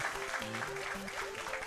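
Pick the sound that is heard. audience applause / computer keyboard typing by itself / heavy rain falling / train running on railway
audience applause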